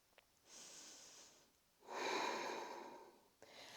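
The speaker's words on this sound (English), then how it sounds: "Take one more beautiful breath here." Two slow, deep breaths during a yoga flow, a long soft inhale followed by a fuller, louder exhale, close and quiet with no talking.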